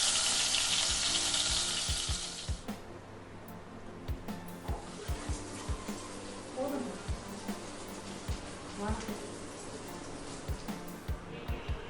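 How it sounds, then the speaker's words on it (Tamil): Vegetables frying in a pan for cauliflower tikka masala, a steady sizzle that is loud at first and then settles lower, broken by scattered sharp clicks and stirring knocks, with no talk over it. "இப்போ நம்ம இந்த வெஜிடபிள்ஸை கொஞ்சம் கொஞ்சமாக ஆட் பண்ணிவிட்டு ஃப்ரை பண்ணிடலாம்."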